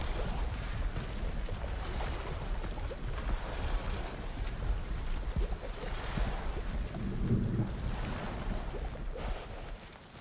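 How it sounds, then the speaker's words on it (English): Heavy rain and rolling thunder in the game Hunt: Showdown, a steady dense roar of downpour with low rumbles throughout, continuous and fairly loud with no talk. "Yeah, it's heavy raining, alright."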